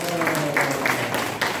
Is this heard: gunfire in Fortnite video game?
no